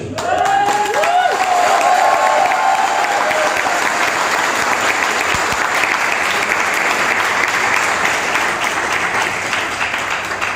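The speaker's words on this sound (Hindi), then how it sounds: "ये जो तालियां आप बजा रहे हैं" A large audience at a success-journey motivational program in Karnal claps loudly and continuously, a dense, sustained wash of applause that never lets up.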